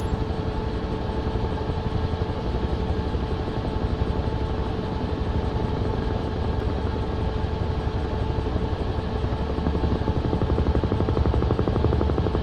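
A Huey helicopter in Microsoft Flight Simulator 2024, flying over Korea, gives a steady, loud rotor thump over a constant engine drone that runs without a break and without talk.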